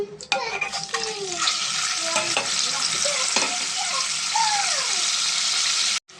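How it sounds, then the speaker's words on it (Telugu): Eggs fry in hot oil seasoned with turmeric, giving a loud, close sizzle broken by scraping and squeaky stirring of a utensil, which cuts off abruptly near the end. "ముందు ఎగ్స్ ఫ్రై చేసుకుందాం మనం"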